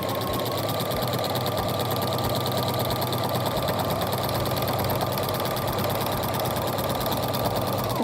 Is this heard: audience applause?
no